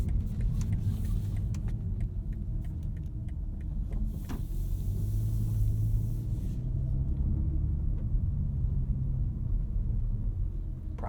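A 2023 BMW M3 Competition xDrive Edition 50 Jahre on winter tires drives along with a steady, deep engine rumble and road noise throughout, close and continuous without distinct revs.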